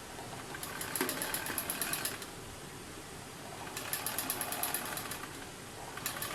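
A sewing machine stitches the side seam of a blouse in two rapid, rhythmic bursts of needle clatter separated by a short pause, close and fairly quiet, with no talking.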